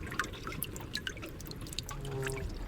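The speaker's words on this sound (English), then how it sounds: "the main thing you can hear is the trickling sounds of melting ice" Melting ice trickles and drips in still water above the waves, with no wind. Many small irregular drips and trickles sound close and quiet, and a faint low tone rises near the end.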